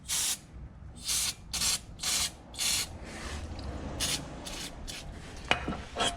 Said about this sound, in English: Spray that on a rag.